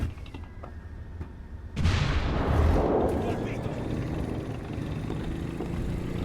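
A tank cannon fires in War Thunder during street combat, one sudden heavy boom followed by a long rolling rumble under steady engine and battle noise.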